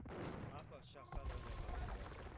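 Bombard cannons in Age of Empires II fire a rapid series of booming gunpowder blasts during a big battle, with dense, overlapping impacts under continuous commentary.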